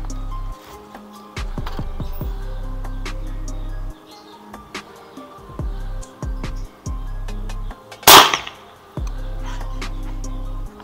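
A single sharp crack of a Ruger Bigame 5000 PSI PCP air rifle shot at a brick target stands out once amid quiet outdoor background noise with scattered faint ticks.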